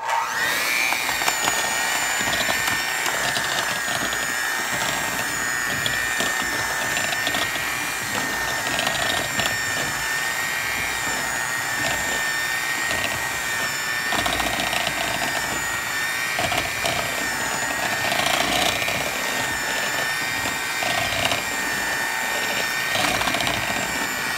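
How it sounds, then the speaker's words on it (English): A hand mixer whirs continuously and close by as it beats 6 tablespoons of butter with 1/3 cup of coconut oil for keto coconut flour cookies, a steady whining drone with slight shifts in pitch. "we have 6 tablespoons of butter and 1/3 cup of coconut oil that we're going to mix very well together with our hand mixer"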